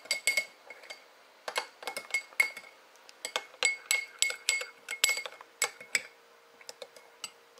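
A spoon clinks sharply and repeatedly against a glass dish while cocktail sauce is stirred, bright irregular taps coming in quick bursts with short pauses, close and clear with no talk.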